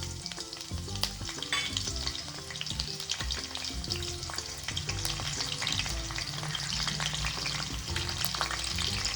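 Whole cardamom, cinnamon and cloves sizzle loudly in hot oil in a kadhai, a dense, steady crackle with scattered pops and stirring scrapes throughout, no talking.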